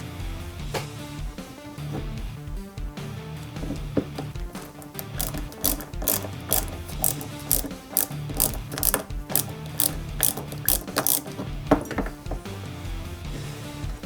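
Small screws driven into the suspension of a 1/8 scale Nissan Skyline GT-R model from Fast & Furious, heard as close ratcheting clicks from a screwdriver in quick bursts, with light handling clinks between turns.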